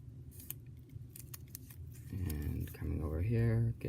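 Scissors snip through folded paper while a paper snowflake is cut, a run of crisp, close clicks early on, then someone talks over the work.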